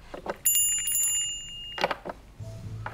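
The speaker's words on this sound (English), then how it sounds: "As the bell rings." A small bell gives several bright, clear rings that linger and fade, with short knocks and clinks around them in a quiet room during judging on a televised cooking competition.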